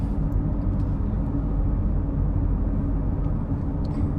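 Interior road noise inside a Nissan X-Trail SUV while driving, a steady broadband rumble and tyre hum filling the cabin, continuous and moderately loud with no talking.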